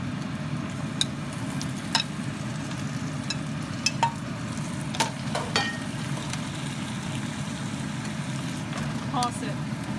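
Pork chops are tossed in a sizzling honey garlic sauce, giving a steady low frying hiss with scattered clinks and scrapes of a utensil against the pan throughout.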